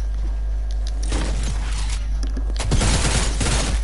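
SMG gunfire in a video game comes as two short, fast rattling bursts over a steady low hum, the second burst louder and closer than the first.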